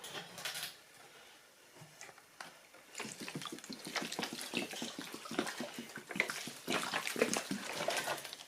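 Water is poured in while relining a road furnace, splashing and trickling unevenly, with sloshing and dripping sounds picking up partway through and continuing close by.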